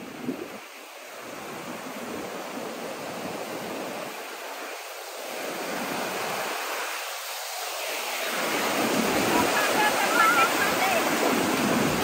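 Sea waves break and wash ashore at Praia Leste beach in Paraná, Brazil, a steady roaring surf that swells in repeated surges, with wind buffeting the microphone and faint voices nearby.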